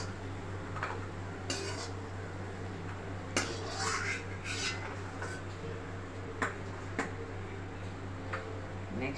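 Roasted rava is scraped from a pan onto a plate, giving light metallic clinks and scrapes of a spoon against cookware over a steady low hum.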